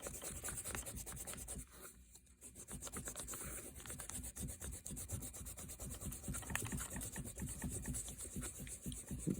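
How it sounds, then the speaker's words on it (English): An eraser scrubs rapidly back and forth on drawing paper in a steady, close, papery rubbing rhythm that pauses briefly once and carries on with no talk. "Let's just erase this."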